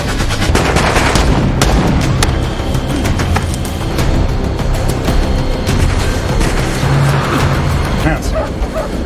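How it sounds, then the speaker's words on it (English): Gunfire from a movie shootout, loud and dense throughout, with sharp shots and bursts mixed into busy action sound and shouted voices. "the shooting action could no longer be avoided"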